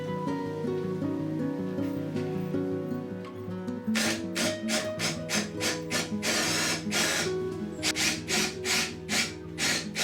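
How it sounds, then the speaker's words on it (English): A drill with an extension runs a 13mm bit into a wooden chair seat for a stick chair. After a low steady hum, the drill starts in loud, close, rhythmic bursts of grinding that stop and restart repeatedly. "it's a bit easier drilling the actual hole into the seat, because we can run the drill extension through there"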